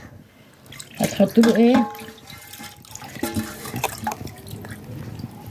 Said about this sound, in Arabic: والميه بتحطوا لها اهو، شايفين؟